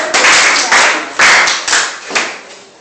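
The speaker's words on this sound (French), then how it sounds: "Très bien, applaudissez James encore." A classroom of children at a French oral teaching seminar claps together in several uneven, loud waves of applause that rise and fade over about three seconds, with some voices mixed in.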